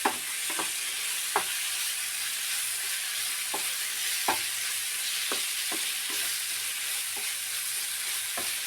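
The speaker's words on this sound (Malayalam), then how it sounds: "നന്നായിട്ട് മിക്സാക്കി അതിൻ്റെ പച്ചമണം പോണ വരെ ഒന്ന് ഇളക്കി കൊടുക്കാം" Chicken roast masala is stirred in a frying pan, with a steady sizzle under a spatula that scrapes sharply about a dozen times at an uneven pace.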